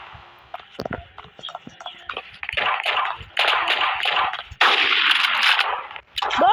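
Rapid bursts of gunfire crack and clatter in the online shooter Blox Strike, sharp reports and longer noisy volleys up close, loud and overlapping, with a sniper rifle among the weapons fired.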